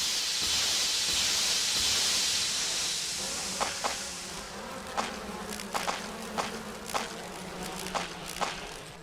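A swarm of bees buzzes around a beehive in the Resident Evil remake, a steady hissing drone that fades after a few seconds, followed by a series of sharp, evenly spaced clicks like footsteps.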